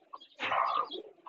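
Pigeons of a domestic desi breed give a single soft, near coo, brief and quiet, with no other sounds around it.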